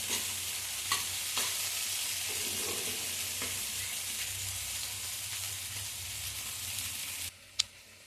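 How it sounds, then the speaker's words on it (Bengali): Palak dum aloo tossed with dry spices in a pan: a continuous close sizzle with periodic scraping strokes of a spatula, ending in a sharp metallic clink. "সমস্ত শুকনো মশলার সাথে এটা ভালো করে মিশিয়ে নেব।"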